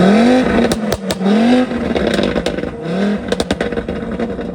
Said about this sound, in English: This car makes such a cool sound. It's very distinctive. It is like a mini V10.